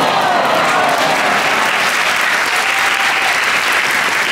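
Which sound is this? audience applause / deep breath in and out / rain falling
audience applause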